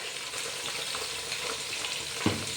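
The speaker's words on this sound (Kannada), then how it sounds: "ಈರುಳ್ಳಿ ಟೊಮೊಟೊ ಹಾಕ್ತಾ ಇದ್ದಾರೆ ಇವಾಗ." Onion and tomato fry in a pan with a dense, steady close sizzle, a scrape of stirring toward the end.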